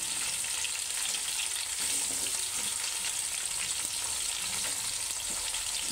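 Green chillies and onion pieces frying in hot oil for bagara rice, a steady close sizzle with faint crackles and spatters running throughout, no voices.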